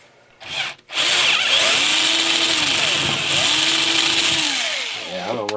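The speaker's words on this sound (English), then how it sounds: "I got these old Harbor Freight Drill Master drills" An aging Harbor Freight Drill Master cordless drill bores a hole during a Toro 524 snowblower engine swap, a loud, sustained motor whine with slight dips under load, preceded by a brief trigger blip.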